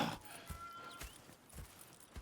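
Horses in Red Dead Redemption 2 clop along with a steady, soft hoof rhythm, several quiet thuds over a couple of seconds against faint background ambience.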